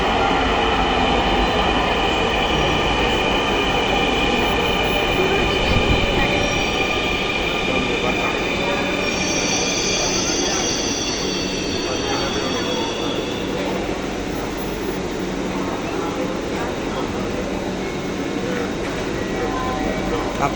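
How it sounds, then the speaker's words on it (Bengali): A train pulls into a station platform with a loud, continuous rumble, squealing wheels and a high screech partway through, while a voice talks faintly underneath. "এই যে এখন আমাদের ট্রেন চলে আসছে।"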